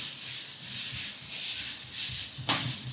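Sponge scrubbing a surface with hot water, a steady rasping rub repeating in waves close up, with a brief sharper knock near the end.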